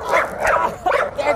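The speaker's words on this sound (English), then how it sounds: "oh, there's a dog" A dog gives a few quick, close yips and barks in a short burst, with a voice mixed in.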